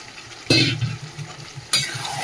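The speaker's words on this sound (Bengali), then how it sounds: "দেখো চিকেন তো কষানো হচ্ছে, কত জলও বেরিয়েছে চিকেন দিয়ে।" Chicken and potatoes are stir-fried in a pan over a soft, steady sizzle, with two sharp scraping strokes of a spatula about a second apart, close by and without speech.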